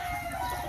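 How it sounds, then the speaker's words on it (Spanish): A jabao gamecock at a rooster farm gives a brief, close, steady clucking call under a little background noise. "De un gallo jabao."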